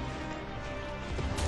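A loud, dense crash of explosion noise in Final Fantasy VII Remake demo gameplay, rumbling and sustained, swelling stronger toward the end with a deep boom.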